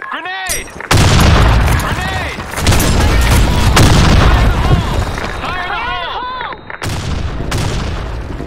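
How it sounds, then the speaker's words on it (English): A grenade blast in the shooter game Blackshot: a loud, sudden explosion breaks in after a short quiet, then heavy gunfire and booms roll on, with a brief drop before another loud burst near the end. "Grenade!"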